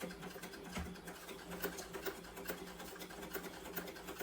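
Sewing machine stitching a seam around a pocket corner on a sling bag, a soft rapid mechanical whir with steady needle ticks, faint and close.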